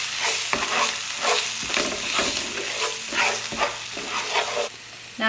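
Tomato paste is stirred into a pasta sauce in a hot pan, with rhythmic scraping strokes of a utensil repeating about every half second over a soft sizzle, close up and without speech.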